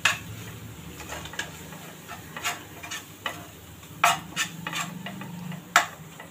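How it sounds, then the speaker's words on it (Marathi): A spoon stirs chili powder, coriander-cumin powder, turmeric and kitchen king masala frying in a pan for veg bhuna masala. Irregular scraping clicks and taps sit over a soft, continuous low sizzle. "आता हे मसाले छान परतून घ्यायचे."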